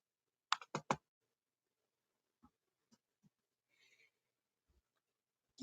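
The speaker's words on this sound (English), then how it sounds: "If my damn laptop will click." Laptop clicking and keyboard typing, a quick cluster of sharp clicks at the start followed by a few sparse, faint taps with quiet gaps between them.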